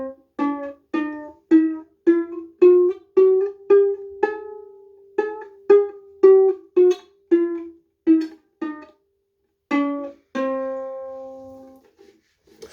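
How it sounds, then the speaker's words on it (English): Single plucked ukulele notes step upward one by one in an even rhythm, each ringing briefly, ending on a longer sustained note; clear and close, with no talking. "So a chromatic scale on a ukulele would sound like this."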